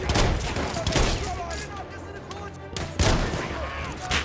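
Gunfire in a video game, loud repeated shotgun-style blasts among chaotic battle noise, with voices talking in between.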